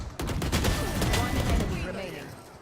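Gunfire in the competitive shooter Valorant during a MIBR versus 100 Thieves esports match, a quick cluster of sharp shots over a loud, busy game mix with caster commentary running underneath.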